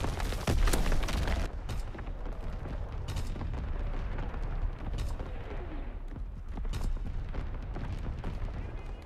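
Heavy artillery battery firing in Call of Duty WWII, with deep booming blasts and rumbling explosions layered over constant battlefield gunfire, loud and dense throughout and the strongest blasts at the start.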